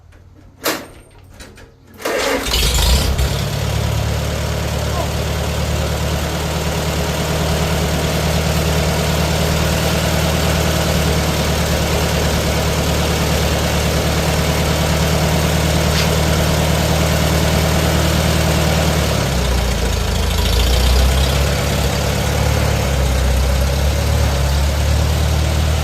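After a few brief clanks and a short start-up, a Farmall A tractor engine settles into a steady, loud, low idle that runs on unbroken and close by.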